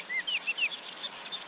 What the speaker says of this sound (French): Les tisserins gendarmes peuplent les savanes d'Afrique subsaharienne.